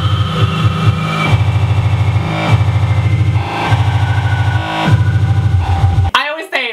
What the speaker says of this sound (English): speedcore sounds like this